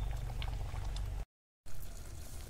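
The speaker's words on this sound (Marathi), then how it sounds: "गुळाचं जे पाणी झालेलं आहे ते पूर्ण आटवून घ्यायचं आहे।" Jaggery water simmering down in a pan with cardamom powder for puran poli filling, a soft continuous bubbling close by, broken by a brief silent gap, with no voices.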